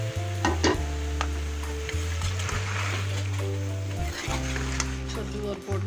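Pumpkin and green chillies fry in a pan with a steady, close sizzle and occasional stirring, running throughout beneath louder background music.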